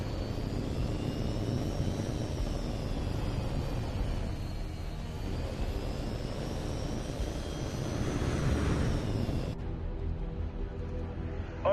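Jet aircraft engine in the combat flight game Tom Clancy's HAWX 2, a continuous loud roar with slowly rising and falling whine, cutting off abruptly near the end.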